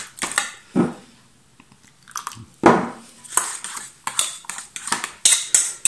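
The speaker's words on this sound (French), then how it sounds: "Et là, je commence à lui ajouter un tout petit peu de bière. Voilà, je mélange doucement." Beer is stirred gently into a batter for beer chicken in a bowl, giving soft scraping and clinking of a utensil against the bowl in irregular bursts, with quiet gaps between strokes.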